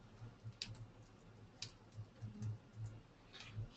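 Light keystrokes tapped on a computer keyboard, a loose run of soft clicks with brief pauses, faint and close, with no talking.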